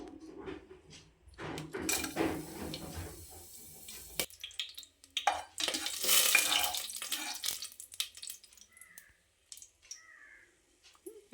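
Whole cinnamon, cardamom and cloves drop into hot ghee in a pressure cooker for vegetable biryani, bursts of close sizzling and crackle followed by quieter spluttering and occasional stirring.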